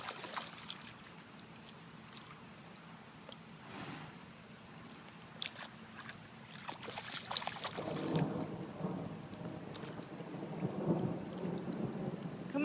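Rain falls steadily at a barn with muddy puddles while thunder rumbles low and distant, the storm's wash growing heavier and louder toward the end.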